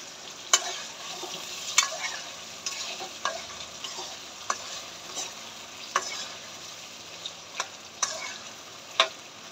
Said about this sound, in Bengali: গরুর অন্ডকুড়গুলা ভেজে খুব সুন্দর ভাজা হচ্ছে।